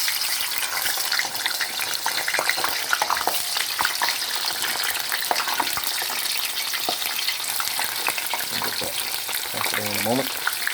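Food frying in hot grease for a dog's bologna salad sandwich and a steak, a steady crackling sizzle running throughout, with a few brief clinks and a faint voice near the end.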